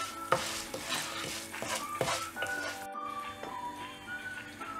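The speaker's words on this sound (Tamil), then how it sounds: "உளுத்தம் பருப்பு ஃப்ரை ஆகிட்டு இருக்கும்போது இதில் மிளகாய் ஆட் பண்ணிவிட்டு எண்ணெயிலே ஃப்ரை பண்ணிடலாம்." Urad dal and chillies fry in hot oil with a steady sizzle, broken by repeated scrapes and clinks of a spoon stirring the pan, close and moderately loud.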